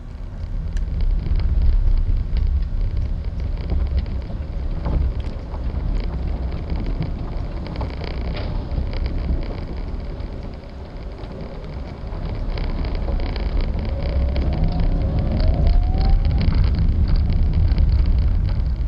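A Fiat Cinquecento's 899cc pushrod engine hums steadily from inside the cabin while driving, with road and wind noise throughout and a slight change in pitch as it accelerates.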